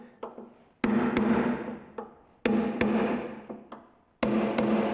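Sharp metallic hammer strikes on a centre punch marking spot welds on a car body panel, arriving as single and paired taps with short ringing decays between them, close and distinct.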